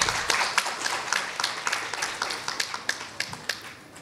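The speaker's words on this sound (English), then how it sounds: "A big round of applause for everyone," Applause from the audience at a finance talk event, a modest crowd clapping steadily with distinct individual claps that gradually thin toward the end.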